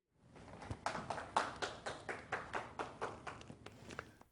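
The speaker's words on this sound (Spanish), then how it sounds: "Un aplauso para el ganador de la primera ronda," A small group gives brief applause for the first-round winner at a western-era gathering: a sparse run of roughly a dozen distinct, evenly spaced claps, quiet and close, fading out near the end.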